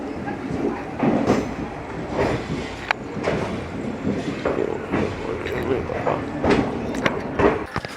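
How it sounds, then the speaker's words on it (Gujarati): A Porbandar-bound passenger train rumbles and clatters as it pulls away from Rajkot Junction, with wheels clacking over rail joints while a person talks nearby over the noise. "આપણી જે ઉપલેટાની પોરબંદરવાળી ટ્રેન છે એક્ઝેક્ટ ટાઈમે જ અહીંથી રાજકોટ જંકશનેથી ઉપડી છે"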